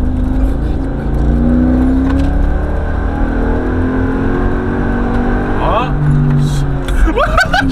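Mercedes G55 AMG engine pulling hard with rising tones as the car accelerates from inside the cabin, steady loud drone with people talking over it.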